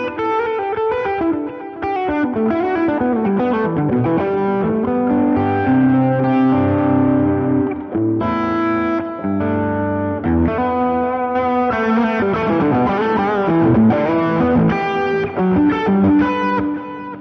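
An electric guitar played through a Line 6 HX Stomp with a dynamic plate reverb and added delay, distorted chords and melodic lines ringing out with echoing repeats, continuous and prominent with no talking.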